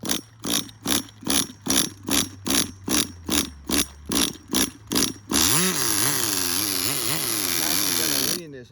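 Tamiya TGS-R nitro RC car engine being started, with about eleven evenly spaced pull-start or cranking bursts, then catching into a steady, loud high-pitched buzz whose pitch wavers as the throttle is blipped.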